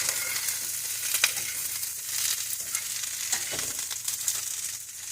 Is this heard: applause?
no